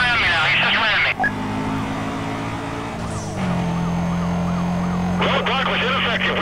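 A police car siren wails in a Need for Speed: Most Wanted chase, a loud cycling electronic tone that runs through the whole stretch with engine noise and game radio chatter over it.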